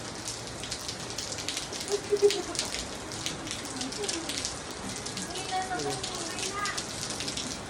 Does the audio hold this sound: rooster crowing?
no